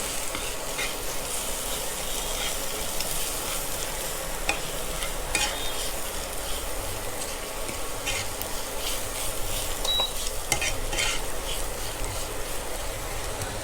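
Spices being stirred and mixed in a pan for pattani masala, a steady close scraping of a spoon over a soft background sizzle, continuous throughout with no talking.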